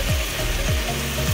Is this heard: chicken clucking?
no